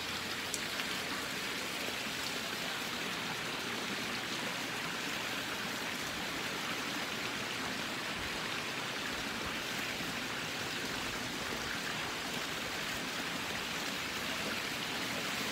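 Steady outdoor wind noise, a constant broadband rush of breeze that holds at an even level throughout with no talking.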